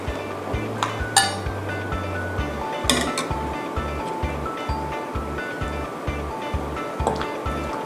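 A ladle clinks against a pot as sour king mackerel soup with papaya is served, with bright metallic taps and sloshing over a steady low rumble and a rhythmic low pulsing throughout.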